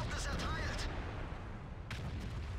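Tank cannon fire in the online game World of Tanks, with two booming shots about two seconds apart over a dense rumbling battle background.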